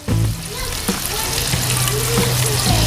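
A skin-on snook fillet, lightly dusted, fries skin-side down in hot oil, giving a steady close sizzle and crackle with a louder hiss as it goes in, while someone talks over it.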